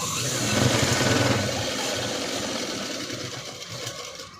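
A sewing machine stitches a boat-neck blouse with a steady, fast mechanical whir close by that runs the whole time, with no talking.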